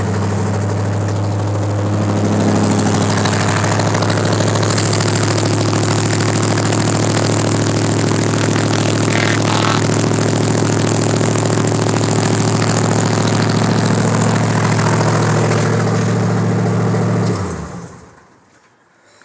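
A cold engine in a 1953 Buick hot rod or 1983 GMC K3500 runs loudly just after starting, a steady, heavy close-up drone with a strong low hum that holds for many seconds, then cuts off and dies away.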